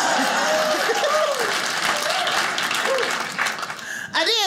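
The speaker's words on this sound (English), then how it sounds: "Yeah, clap." Audience clapping and cheering at a comedy show, a brief burst of applause with whoops over it that fades before a voice returns at the end.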